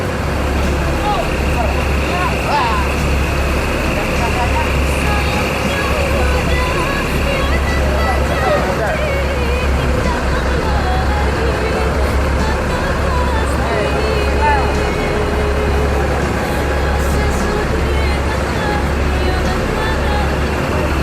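ANS passenger bus at a station, a constant low engine rumble and idle hum beneath busy traffic noise and a murmur of people talking around it.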